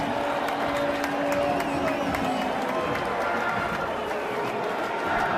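Air Force stadium crowd at a Service Academy football game against Army roars after a touchdown, a broad, distant wash of cheering with a commentator's voice over it.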